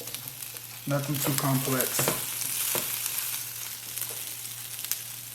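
Food sizzles and fries steadily in a pan, a continuous hiss with occasional stirring clicks, while a person speaks briefly over it.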